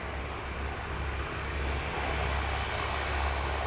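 A Qantas Boeing 737 in ochre livery passes close by at Sydney Airport, its engine roar a steady, loud, broadband rush that holds throughout and builds slightly toward the end.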